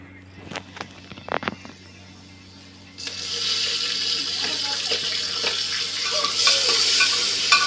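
Meat dropped into a hot pan starts frying with a sudden broad sizzle after a few quiet clinks and knocks, the steady crackling hiss holding close and fairly loud to the end.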